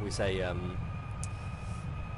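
Boeing 747 engines in the FSX PMDG simulator spooling up toward 70% power, a steady broadband roar with a faint whine, while someone speaks briefly near the start.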